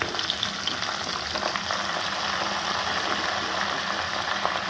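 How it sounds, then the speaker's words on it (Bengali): Malabar spinach dropped onto fried pangas fish in hot oil sizzles with a steady, dense crackle and occasional sharp pops, close and loud throughout with no talking. "আর তো এই যে ভাজা মাছগুলোর মধ্যে আমি সরাসরি পুঁই শাক দিয়ে দেবো এখন।"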